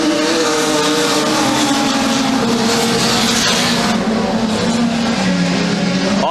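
Production sedan race cars thunder past at a circuit, engines loud and close with continuous droning roar and shifting pitch as they battle down the back straight.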